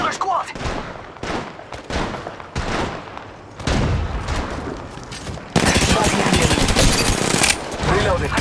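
Rapid automatic gunfire rattles in bursts during an Apex Legends Mobile match, getting louder and denser toward the end, with game voice lines over it.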